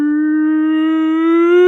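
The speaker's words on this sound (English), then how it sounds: "you can hear the siren" Siren wailing in a town, a single loud, clean tone holding steady and slowly rising in pitch toward the end, heard alone without voices.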